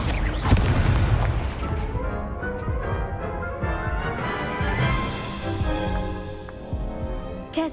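Rapid spell blasts in the video game Hogwarts Legacy during a duel: a dense, continuous stream of booming bursts and crackling impacts, loud and close, with sharp pops at the start and end and no talking.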